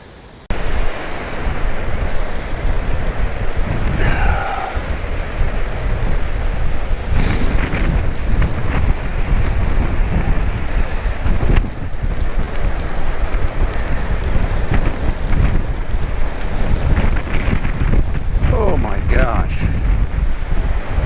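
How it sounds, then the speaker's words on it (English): Strong, cold wind on the Geneva shoreline roars and buffets the microphone continuously for the whole stretch, loud and gusty, with a few faint voice traces beneath it. "It is very windy"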